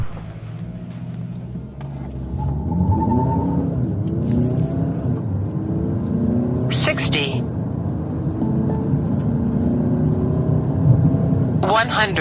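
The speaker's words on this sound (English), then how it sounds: "I also did a quick 0 to 100 acceleration run using my GPS logger" Mercedes-Benz A-Class diesel accelerating from 0 to 100, with a steady engine rumble rising in pitch through the gears, heard from inside the car under someone talking, with a few brief clicks and ticks.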